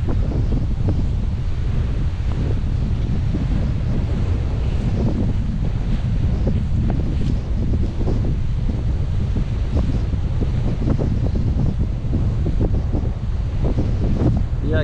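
Wind and ocean waves at Barra de Camaratuba beach in Paraíba, seen from atop a dune, make a constant loud rushing roar, with heavy wind buffeting on the microphone throughout.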